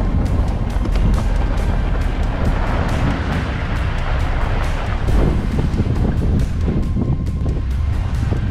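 Wind gusts steadily across a dry African savanna in lion territory, a loud broadband rush with buffeting against the microphone throughout, no talking.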